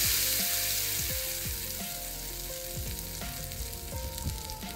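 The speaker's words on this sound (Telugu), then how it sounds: "వేగిన పోపుని దీంట్లో వేసాం" Freshly fried tempering of spices is tipped into a peanut dish, giving a loud steady sizzle with quick popping crackles close by and no talk.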